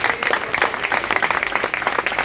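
A church congregation applauds in thanks at the close of a rosary prayer service, a steady dense clapping from many hands filling the hall throughout.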